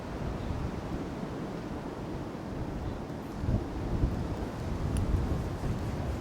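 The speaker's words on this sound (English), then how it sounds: "It's not affecting me, this wind" Wind gusts buffet the microphone beside a small river in the open, a steady low roar that swells toward the end, with no voices.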